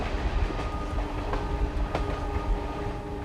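A passenger train speeds along a line toward Guwahati, heard from inside: a steady rumbling roll of wheels on rails with rhythmic clickety-clack and a few sharp rail knocks.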